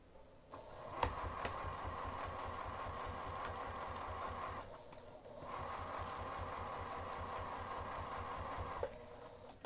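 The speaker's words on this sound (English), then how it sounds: "I'm going to flip to the wrong side of the piece we just sewed and sew right on top of the previous stitching" A sewing machine runs in two long steady bursts of rapid stitching, sewing over earlier stitching on a Baker Street bag, with a short pause between bursts and no talking.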